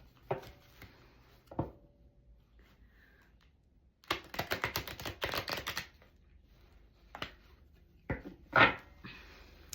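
Cards being shuffled for a reading, close and fairly quiet, with a few isolated flicks and then a rapid riffling burst of crisp taps lasting about two seconds, followed by scattered single snaps.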